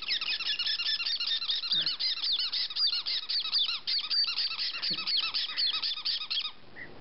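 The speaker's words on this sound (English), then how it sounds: "And he's quite a little squeaker." A roughly ten-day-old white-bellied caique chick squeaks nonstop in rapid, high, toy-like peeps, close and fairly loud, and the calls fade near the end.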